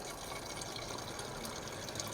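Antifreeze drains from an opened valve in the cooling system of a Ford CLT9000 truck, a faint, steady splashing and gurgling flow of liquid without any talking.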